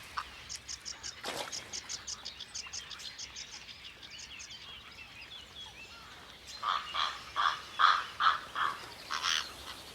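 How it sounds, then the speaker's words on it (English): Purple heron nestlings clamor for food at a lakeside nest in La Brenne, a rapid series of high, repeated begging calls that swells into louder, harsher squawking bursts with other birds and insects faintly behind. "The nestlings are clamoring for their lunch."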